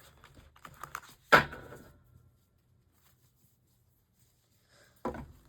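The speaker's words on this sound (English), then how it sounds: "Ooh, here we go with the ghetto shuffling." Tarot cards shuffled chaotically by hand, a loose run of soft taps and flutters followed by one sharp riffling burst, a long quiet gap, then another brief shuffle near the end.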